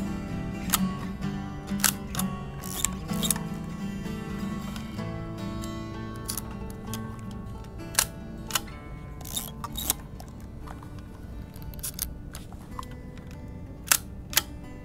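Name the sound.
twin lens camera shutter cocked and released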